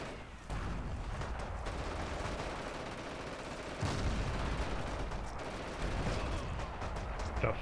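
Machine-gun fire in the Forgotten Hope 2 multiplayer game about a WWII battle at the Meuse River: continuous dense rattling bursts, some distant and some closer, in a steady wash of battle noise.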